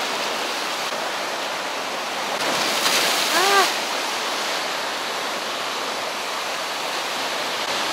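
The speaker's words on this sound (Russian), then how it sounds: "Везде море." Sea waves wash around a pier at the Sveti Vlas resort in Bulgaria, making a steady, loud hiss of surf that fills the whole clip, with a brief higher sound rising midway.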